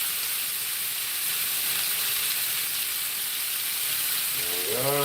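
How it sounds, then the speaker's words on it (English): A tri tip steak sears in a hot pan, giving a loud, steady, close sizzle and hiss that runs unbroken throughout. "Get a good sear going."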